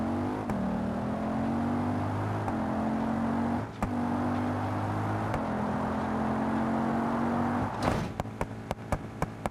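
An Audi RS6 car drives with a steady engine hum that rises and falls through a few gear shifts, followed by a burst and a run of sharp clicks at the end.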